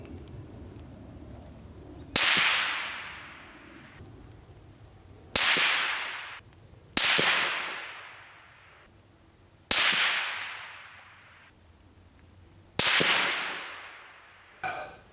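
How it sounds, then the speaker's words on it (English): Five suppressed .308 rifle shots from a Tikka fitted with a Deadair Nomad L suppressor, each a sharp crack with a decaying tail, spaced a few seconds apart outdoors, with a sixth starting at the very end. "here's a 5-round group fired suppressed Nomad L through my Tika 308."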